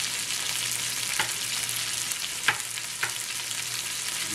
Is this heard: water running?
no